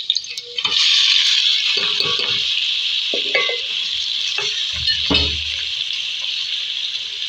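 Rice is stirred and mixed in a pot while cooking daal chawal, with steady sizzling and hissing underneath a few scraping, clinking spoon strokes, close and alone.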